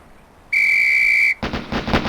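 A shrill, steady referee-style whistle blast signals fire at a Police Quest SWAT shooting range, followed at once by a rapid string of sharp gunshots.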